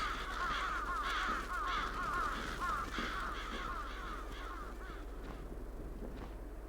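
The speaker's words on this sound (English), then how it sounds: "Let's scare the crows." Crows caw repeatedly in the video game Bloodstained: Ritual of the Night, a steady run of harsh overlapping calls that stays fairly loud before thinning out slightly near the end, with no talking.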